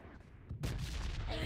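Gunfire crackles at a distance in a video game, like Diwali firecrackers, as a rumbling burst of shots that sets in partway through and keeps going to the end.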